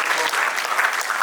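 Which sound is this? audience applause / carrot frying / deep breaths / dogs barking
audience applause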